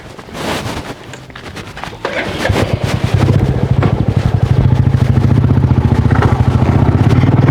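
A motorcycle is being ridden, its mid-pitched engine chugging louder and more steadily as it gets going, close by and mixed with wind buffeting on the microphone.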